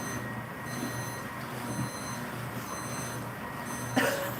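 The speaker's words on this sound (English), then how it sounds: "Hey, your alarm's going off." An alarm beeps in a kitchen where marshmallows are being cut, a steady pattern of repeated electronic tones pulsing at regular intervals, moderately loud against background noise, with a brief clatter near the end.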